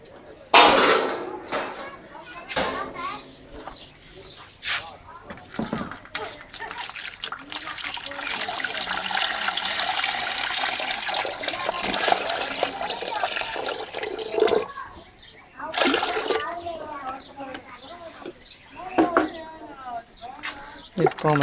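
Hot water splashes and trickles steadily while an ice cream machine is washed out, mid-distance, with someone talking over parts of it and brief pauses in the flow.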